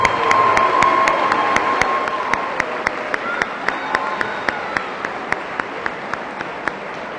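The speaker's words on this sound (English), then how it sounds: "Let's give them all one more round of applause." A school awards day audience applauds and cheers for the seniors, a loud crowd wash with scattered whoops and shouts and sharp individual claps standing out as the ovation slowly eases.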